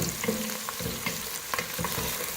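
Onion, garlic and green chilies frying in a pan with repeated stirring scrapes, a steady sizzle underneath and no voices.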